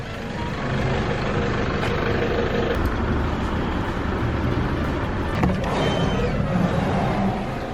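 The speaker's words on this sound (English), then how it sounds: "there's a lot of traffic out here" Busy road traffic rumbles in a steady, dense roar of passing cars and trucks outdoors, loud and continuous throughout with no voices.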